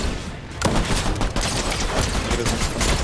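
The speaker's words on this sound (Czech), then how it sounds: "Tady vzadu střílí skop" Sniper rifle fire in the video game Fortnite, a dense, loud burst of gunfire that kicks in abruptly and keeps booming and crackling without a break.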